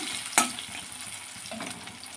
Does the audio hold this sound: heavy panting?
no